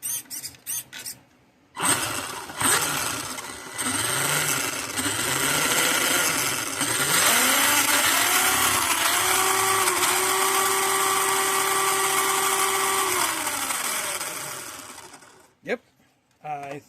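UDIRC 4x4 RC truck motor with a slightly bent axle whining at high pitch, repeatedly spinning up and down, then holding a loud steady buzzing run before winding down, preceded by a few handling clicks.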